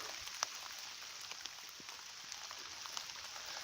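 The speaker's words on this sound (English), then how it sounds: "I was trying to just stay dryish in this rain until the shower" Steady rain shower falling outdoors among trees, a constant soft hiss with scattered drop ticks and an occasional louder patter close by.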